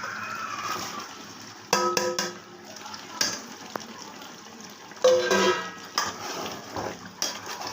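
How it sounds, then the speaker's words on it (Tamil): Two kilos of mutton going into a biryani pot: scattered metallic clanks and scrapes of utensils against the pot, sharp bursts between quieter stretches, with faint background voices. "ரெண்டு கிலோ மட்டன் போடுறோம்"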